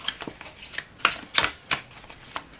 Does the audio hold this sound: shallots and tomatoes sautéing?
no